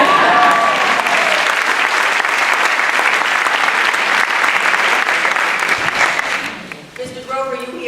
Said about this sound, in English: That's when you're supposed to clap.